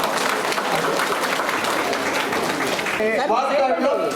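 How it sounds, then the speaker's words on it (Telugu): A crowd applauds loudly for a few seconds at a smart ration card distribution event, then the clapping thins as a voice starts speaking over it. "ఒకసారి చప్పట్లు కొట్టేసేసేద్దాం"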